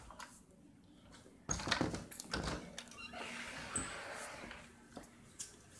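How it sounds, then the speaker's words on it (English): Muffled knocks on a door land as a short cluster of thuds and raps over a quiet room background, fading to a few softer taps. "Stop knocking on my door!"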